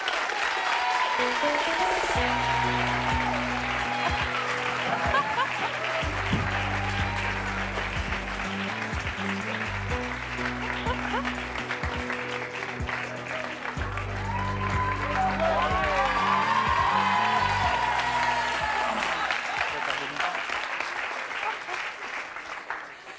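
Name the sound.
studio audience applauding loudly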